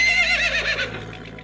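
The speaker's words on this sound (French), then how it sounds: "L'un de ses chevaux pousse des cris et s'affole." A distressed horse neighs on a farm with a brown barn and pasture, a loud shrill whinny that trembles and fades into shuddering breaths.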